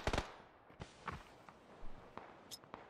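Grenade blasts in the PUBG battle royale game, one sharp close burst at the start followed by several fainter, scattered thuds and pops at a distance.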